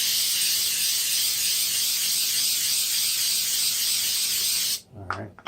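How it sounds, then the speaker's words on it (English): Cooking spray released from a can onto a pan for frying eggs, a loud continuous hiss lasting several seconds and then cutting off abruptly, followed by a short clatter. "Got to spray the pan because you don't want the eggs to stick."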